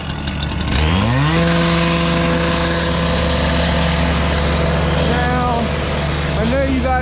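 A power tool cuts through rebar during a building demolition, its motor spinning up near the start and then holding a loud, steady whine that runs to the end.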